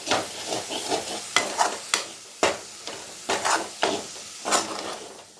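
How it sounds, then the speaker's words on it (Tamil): Crab masala with tomatoes being stirred in a sizzling pan, a spoon scraping in repeated uneven strokes over a soft frying hiss, close and fairly quiet. "இப்போ 1 நிமிஷம் வதங்கிட்டு இப்போது தக்காளி சேர்த்துடலாம்."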